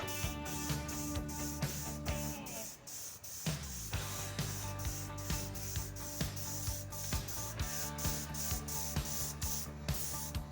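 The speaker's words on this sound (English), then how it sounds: "let's load up the airbrush and apply it to the spoon" Airbrush spraying Orocolor matte varnish onto a spoon, a steady hiss running throughout with short pauses and bursts in a regular rhythm, close and moderately loud.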